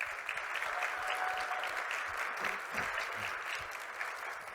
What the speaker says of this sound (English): round of applause for everyone who is here